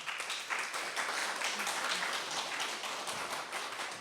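An audience at a reading performance at a book fair claps steadily: a fairly faint, dense patter of many hands with no clear pauses, heard at a distance.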